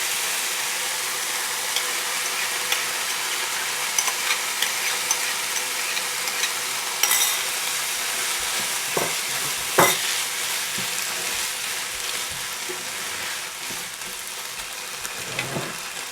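Banana flower frying with cooked dal in a pan for a kootu, a steady hiss of oil with occasional scrapes and knocks from the spatula, close and continuous without talk.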